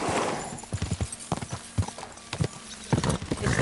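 A horse's hooves clip-clop over ground in the video game Kingdom Come Deliverance 2, with irregular, close hoofbeats and a brief whinny.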